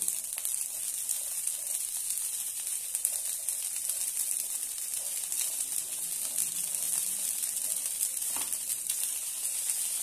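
Green peas dry-roasting in a pan for spicy matar masala, giving a steady, soft crackling sizzle throughout with faint scattered pops, close and fairly quiet, no voices.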